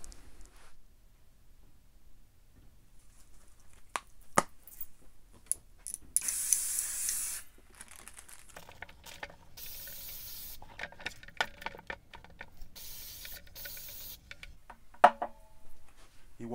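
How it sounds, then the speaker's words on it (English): Water and stain repellent spray misted onto a pair of sneakers, heard as several short hissing bursts mixed with faint handling noises, fairly close and with no talking. "Let's hit these boys with the water and stain repellent"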